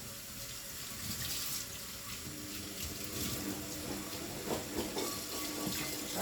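Dishes are washed by hand at a kitchen sink after a meal, with tap water running steadily throughout, splashing and gurgling up close alongside faint clinks of crockery, and no voices.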